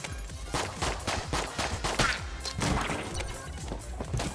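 Revolver fire from Enter the Gungeon, a string of quick, sharp shots about every half second over roughly four seconds, with busy game music and effects underneath.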